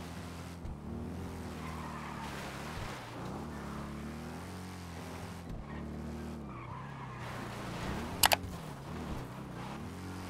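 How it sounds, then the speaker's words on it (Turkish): Tires skid and squeal as a motorcycle slides out from under its rider in GTA 5 Online, a wavering engine drone with repeated skidding sweeps and a sharp clack near the end. "Motor ayağımızın altından kayıp gidiyor arkadaşlar."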